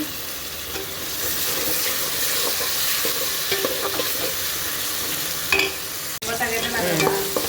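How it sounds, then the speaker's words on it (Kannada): Chopped onions and tomatoes frying in a pan for fish sambar give a steady, loud sizzle, with the scrape of stirring and a sharp clink near the end, and no voices. "ಟೊಮೊಟೊನ ಸ್ವಲ್ಪ ಫ್ರೈ ಮಾಡ್ಕೋಬೇಕು ಹಾಗೆ ಸ್ವಲ್ಪ ಫ್ರೈ ಮಾಡ್ಕೊಬಿಡೋಣ"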